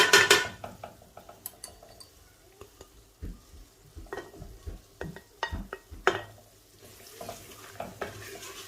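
Soya chunks being stirred with spices in a pan: repeated scraping and clinking of a spoon against metal over a faint sizzle, close by and irregular in rhythm.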